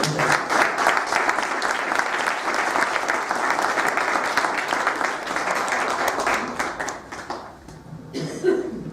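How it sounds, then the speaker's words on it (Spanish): A large audience at a cultural gathering bursts into sustained applause, dense steady clapping that holds loud for about seven seconds, then thins and fades, with a few scattered coughs near the end. "pues un aplauso"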